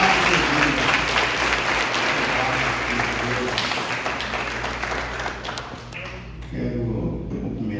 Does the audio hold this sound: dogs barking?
no